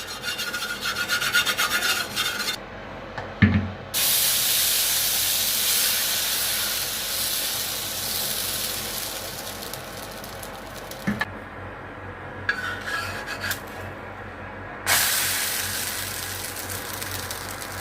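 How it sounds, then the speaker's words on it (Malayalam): Oil spread across a hot dosa griddle gives a steady, close rasping sizzle and hiss that runs for most of the stretch, broken by a few brief pauses and light knocks. "ഇനി നമുക്ക് എണ്ണ അങ്ങോട്ട് തേച്ച് കൊടുക്കാം."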